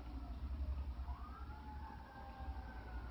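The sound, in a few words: fire engine siren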